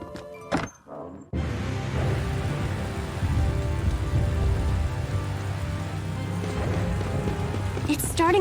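Steady rain hisses in the Tales of Xillia game world, a continuous broad wash that begins after a brief quiet opening and holds at an even level to the end, with no talk over it.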